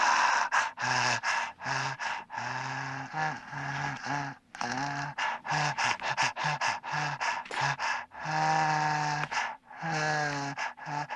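A man imitates a horror-film heavy breather with his voice, making loud, close, rasping gasps and wheezy inhales and exhales in an uneven rhythm of short and drawn-out breaths.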